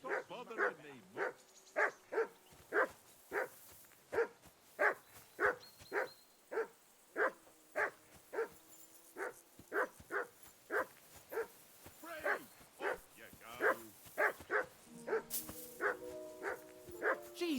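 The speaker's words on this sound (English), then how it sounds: "Jesus, Henry, that barking's driving me nuts." A dog barks over and over at a steady, rapid pace in the medieval game Kingdom Come: Deliverance, each bark sharp and close, continuing nonstop with a few higher yips toward the end.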